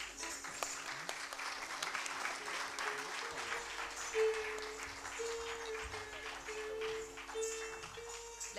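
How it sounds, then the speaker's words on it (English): An audience applauds at an Odissi classical dance graduation (Manch Pravesh) in Kolkata, a steady sustained clatter of many hands at moderate distance. "Let's have a big, big round of applause."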